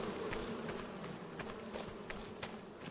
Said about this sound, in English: Oh, the bees are working.